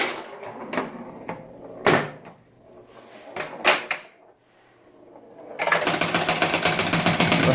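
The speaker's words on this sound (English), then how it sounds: "That bonus count unit definitely needs a cleaning. It is like machine gun bonus." Bonus count unit of a 1976 Gottlieb Target Alpha pinball machine in need of cleaning, rattling through a rapid machine-gun-like countdown of fast, even clicks after a few scattered mechanical clunks and thumps.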